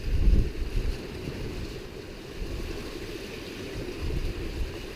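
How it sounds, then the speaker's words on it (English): Wind and waves roll against a sailboat out on Lake Michigan in 15-knot winds and building five-foot swells. A steady rushing roar with heavier low gusts is heard, with no voices. "I think we're getting some 5-foot waves here today. It's building. Winds are about 15 knots."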